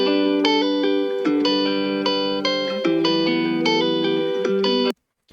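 A processed electric guitar sample for a future bass drop plays bright, sustained chord stabs in a rhythmic pattern, heavily effected with distortion and chorus, then cuts off abruptly into silence.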